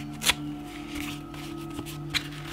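Painted paper being torn off a finger-painted craft journal card, giving a couple of sharp, close rips with faint rustling between, over a steady background hum.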